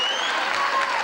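Short stretch of crowd applause at a concert, a thick steady wash of clapping from the audience with faint whistles or cheers cutting through the texture.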